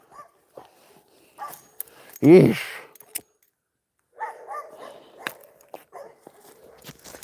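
A dog gives one loud, close bark amid a quiet room, with scattered softer yips and thumps around it and a brief spoken exclamation.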